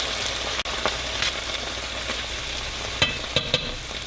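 Canned no-salt-added diced tomatoes being stirred into a hot pan for quinoa chicken parmesan, a steady close sizzle with a few scraping knocks of a utensil and no talking.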